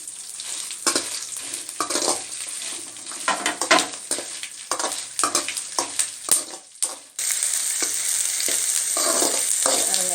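Garlic, dried red chillies and tamarind sautéing in a pan for mint thovayal, with repeated spoon scrapes and clacks over crackling oil, then a steadier, louder sizzle in the final seconds.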